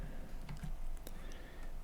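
Soft, quick keystrokes tap on a computer keyboard in a quiet room, a short irregular run of clicks close by.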